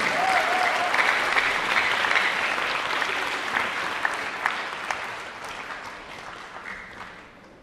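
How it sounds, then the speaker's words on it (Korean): Audience at a Geoje youth orchestra regular concert applauds steadily for several seconds to welcome the orchestra director, a dense, even wash of clapping from a crowd that slowly fades toward the end. "여러분 박수로 좀 맞이해 주시면 감사하겠습니다"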